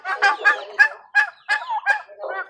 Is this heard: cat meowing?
no